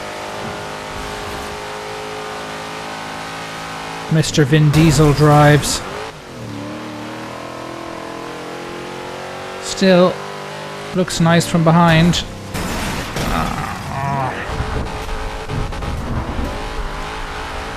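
A Dodge Charger R/T revs and accelerates hard in Forza Horizon 2, its engine rising in repeated surges with gear changes and tire squeals, while someone talks throughout.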